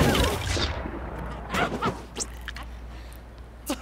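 Cannon fire in the LEGO Legacy video game: a heavy boom opens, followed by a few sharper impact bursts and scattered game effects over a low steady hum, with no talking.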